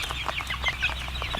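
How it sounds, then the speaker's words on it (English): Chickens raised in a Kentucky chicken house cluck in a busy overlapping chatter, with short calls popping up over a steady low background drone and no talking. "These chickens belong to a billion-dollar corporation headquartered in Maryland"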